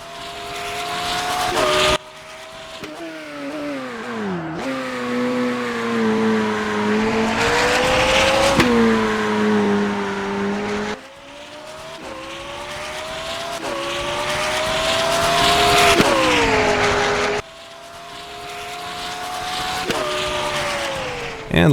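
McLaren Senna GTR race car in the rFactor 2 racing game, its engine loud and close, rising in pitch through each gear with sharp cuts at the shifts and repeated upshifts and downshifts, no talking.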